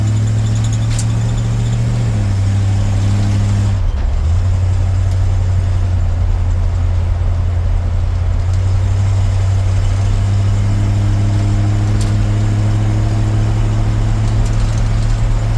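A 1956 Dodge truck engine drones steadily while driving on a dirt road, not yet warmed up, a low hum that shifts pitch as gears change, with faint road rumble and no voices.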